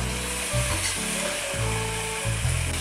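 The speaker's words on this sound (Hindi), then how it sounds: "अब इसमें कटिंग की हुई सेम भी शामिल कर देंगे, अच्छी तरह इसकी भुनाई करेंगे।" Chopped beans frying in a pan for a potato, carrot and bean sabzi give a steady, close sizzle, with stirring scrapes and shifts in the frying noise throughout. No one speaks.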